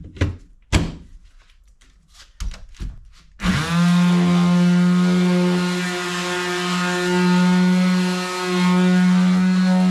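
A few scattered knocks and handling thumps come first, then a power sander with 60 grit starts up on router-cut wood and runs as a loud, steady whirring drone to the end.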